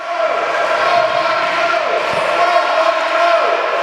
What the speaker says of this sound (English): The fans here at Baileysville are very loud today on NWA Mountain State Wrestling